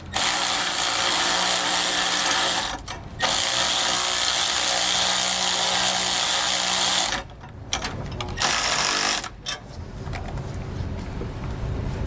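A power tool tightens the clamp bolts of a Roadmaster Reflex steering stabilizer on a 2019 Newmar Bay motorhome, with loud sustained whirring runs broken by short pauses and a few brief bursts near the end.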